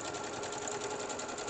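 A sewing machine runs fast, stitching a seam on a handmade fabric teabag holder, a steady close mechanical whir with rapid, even needle clatter throughout.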